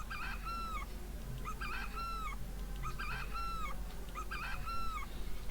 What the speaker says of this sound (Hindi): तो बच्चों ये मुर्गे की आवाज़ है